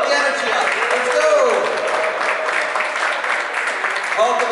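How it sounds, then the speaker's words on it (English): Applause and cheering from a tech meetup crowd in a room, a continuous wash of clapping with voices mixed in and brief whoops, loud and sustained. "Give a round of applause for yourself."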